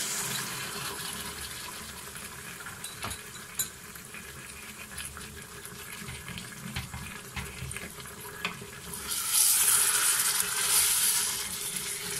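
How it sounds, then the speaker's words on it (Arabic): Water poured from a vessel over Tunisian couscous with vegetables and meat in a home kitchen, a steady hissing pour that swells louder near the end, no talking. "توا نصب عليه شويه ماء"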